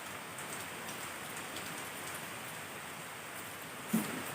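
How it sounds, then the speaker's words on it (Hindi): Steady morning rain falls at a constant hiss across the whole stretch, even and moderately loud, with one brief soft knock near the end. "देखिए कैसे सुबह सुबह बारिश हो रहा है।"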